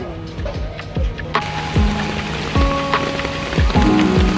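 Rain falls steadily in Delhi, a dense patter of drops on surfaces close by with a faint low rumble underneath and no talking.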